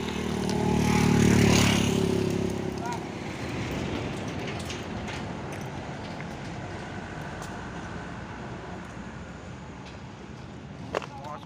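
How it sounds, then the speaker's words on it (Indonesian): A Hino truck loaded with oil palm fruit rumbles past on the road, a loud diesel roar that swells early and then settles into a steady, fading engine drone with road noise. "Masuk lagi ya, truk Hinolohan ini ya, membawa buah kelapa sawit"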